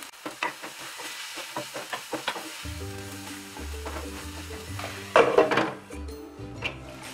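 Chopped mushroom stems and bell pepper cook in a pan with a steady low sizzle, punctuated by spatula scrapes and stirring knocks and a louder clatter near the end.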